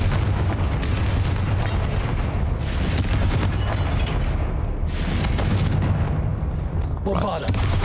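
Confringo fire spells blast in Hogwarts Legacy: several booming explosions land a few seconds apart, each over a dense rumbling wash of game sound.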